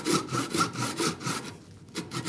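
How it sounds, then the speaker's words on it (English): A hand saw cuts a kerf up to a knife wall in oily wood, making close, crisp back-and-forth rasping strokes in a quick, regular rhythm with one brief pause. "the saw just slipped right into the kerf"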